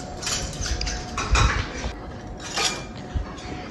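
Spoons and cutlery clink against plates and dishes at a shared lunch, with scattered light metallic taps and scrapes, close and moderately loud, and no talking.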